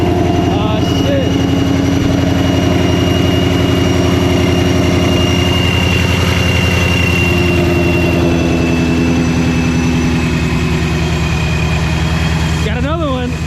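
Several cars, among them Ford Mustangs, idle nearby at a gathering as more arrive, a steady loud engine rumble running the whole time with a rising rev near the end, voices talking over it.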